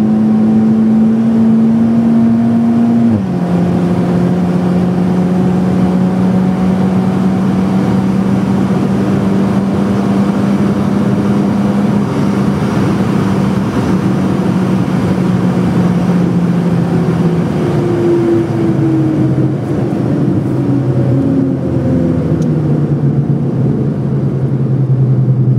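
A car engine pulls hard uphill in third gear, a loud, steady droning growl that dips briefly at a shift early on, then climbs slowly in pitch as it accelerates, heard from inside the car.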